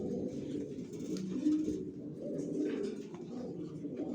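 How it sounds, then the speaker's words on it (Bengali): Young Johnson-line racing pigeons kept for sale coo softly in repeated low, rolling calls, close and fairly quiet, with several overlapping murmurs and no talk. "জনসনের কবুতর পালতে চান, রেস করতে চান"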